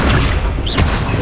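An Incendio fire spell in the Hogwarts Legacy video game goes off as one loud, dense, roaring burst of fiery noise lasting about a second, with no clear talking.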